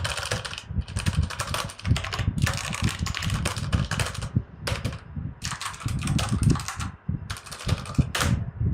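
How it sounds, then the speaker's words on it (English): Clicky keystrokes from a Zebronics Nitro Pro mechanical keyboard with Outemu Red switches, typed in fast, dense bursts with short pauses, close and loud with no talking. "And now you can listen the sound of these keys."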